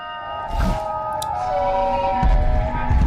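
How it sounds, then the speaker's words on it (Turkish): A siren-like tone wails steadily in a Sprunki animation, with a few low thumps and rustles underneath, moderately loud, no talking. "Aa siren ses çıkartıyor."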